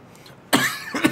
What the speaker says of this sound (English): I am suffering from a cough.